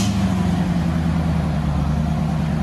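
A Chevy Corvette 5.7L V8 with an aftermarket cat-back exhaust rumbles loudly and close, holding a steady, deep, throaty note that eases slightly toward the end, with no talking.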